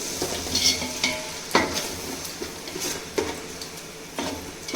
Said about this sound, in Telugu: ఇవన్నీ బాగా వేగే వరకు